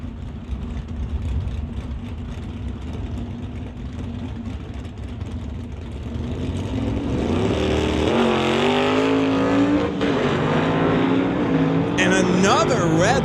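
At a drag strip, a 1969 Camaro and a 1972 Chevrolet make a steady engine drone that swells into a loud, rising roar toward the end, with an announcer talking over it.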